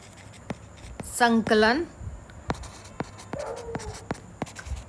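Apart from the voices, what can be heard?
writing on a board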